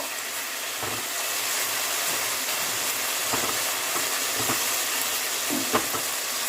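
Ginger paste fries with salt in a pan: a continuous close sizzle and hiss, broken by occasional soft scraping stirs and one small pop.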